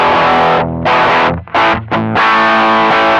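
An electric guitar plays through the JCM800 amp model of a Zoom G1 X FOUR multi-effects processor, giving loud, heavily distorted chords with brief gaps between them and no voices.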